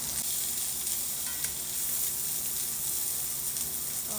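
Onions and bell pepper sizzle in a pan, a dense, even crackle that holds steady at close range, with faint occasional stirring and no talk.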